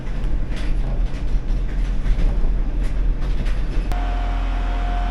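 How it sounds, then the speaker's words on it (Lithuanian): A passenger train travelling toward Marcinkonys in Lithuania, heard from inside the carriage as a loud, constant low rumble and rattle that drops abruptly near the end into a quieter hum with a steady tone. "esu traukinį ir važiuoju į Marcinkonys"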